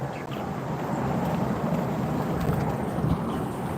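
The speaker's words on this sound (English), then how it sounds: "I know it's a little bit noisy because vehicles are passing." Steady roar of vehicles passing on a road during an outdoor walk, a continuous broad rumble with wind noise on the microphone, fairly loud and without talk.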